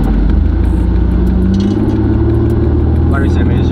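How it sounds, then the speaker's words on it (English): Steady low engine and exhaust rumble from a daily-driven car moving through traffic, loud and continuous throughout, with a little clatter and no clear revving peaks. "this exhaust is kind of loud"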